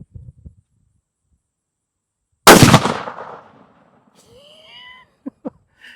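A single loud rifle shot fires a 180 grain Hornady CX bullet into ballistic gel outdoors, a sharp blast that fades quickly after a few faint knocks, followed by a few small high chirps and clicks.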